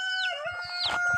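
Young chicks in a backyard brood, about a month old, give a few close, clear high chirping calls with a rising and falling pitch, then a louder burst near the end over soft handling noise.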